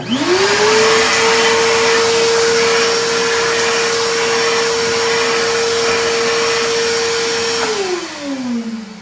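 Stanley 4-gallon 4 HP shop vac switching on, spinning up to a loud steady roar and holding it, then winding down near the end.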